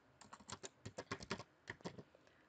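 Someone types a command on a computer keyboard with quick, crisp clicks in short bursts, close and fairly quiet, with a brief pause between runs of keystrokes.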